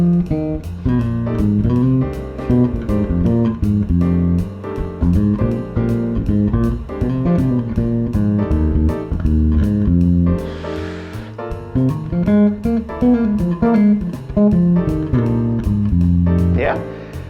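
Bass guitar running an F blues scale line over a 12-bar blues progression, a steady stream of plucked notes with a backing groove, continuous and prominent throughout.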